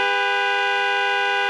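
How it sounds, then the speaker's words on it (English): A truck-mounted train horn on an on-board air system blasts one loud, steady chord that holds through the whole moment, close and alone. "Now honk the horn again."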